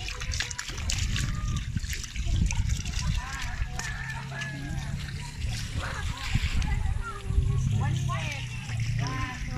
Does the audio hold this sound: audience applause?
no